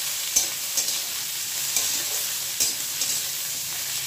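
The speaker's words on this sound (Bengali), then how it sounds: "তো সবজিগুলো আমি নুন আর হলুদ দিয়ে ভালো করে ভেজে নেব।" Vegetables frying with salt and turmeric in a pan, a steady soft sizzle broken by several sharp scraping clicks of a spatula stirring at irregular intervals.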